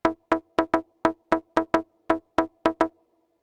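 Behringer 2600 synthesizer percussion patch with both oscillators sounding together, played from a keyboard: a dozen punchy, fast-decaying drum-like hits in a loose, uneven pattern, close and clear, with no voices.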